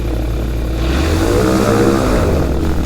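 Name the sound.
microlight aircraft engine in flight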